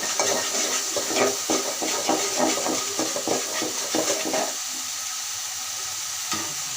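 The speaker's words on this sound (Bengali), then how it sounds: "মশলাটা আমি এখন ভালো করে কষিয়ে নেব।" Spices frying and being stirred in a pan for a Bengali rohu fish, cauliflower and potato curry: a steady sizzling hiss with scraping stir strokes that ease off into a softer, quieter sizzle near the end.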